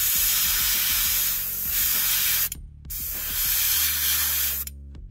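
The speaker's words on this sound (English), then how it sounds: "get this gun set back up so it'll spray and finish base coating this" A paint spray gun base-coating a trout fry lure hisses in two long, loud bursts, cutting off abruptly with short silences between, a steady airy spray close by.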